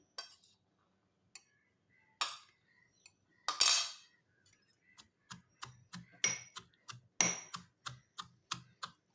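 Corn kernels crushed in a mortar for a healthy dish: sharp, close knocks of the pestle, sparse at first, then a quicker, regular pounding.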